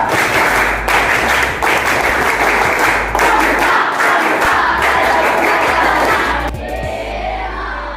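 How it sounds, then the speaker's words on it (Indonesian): A school group claps in rhythmic bursts, the scout clap done twice, with loud dense clapping and a few shouts across the hall, ending with a brief quieter tail. "2 kali tepuk pramuka"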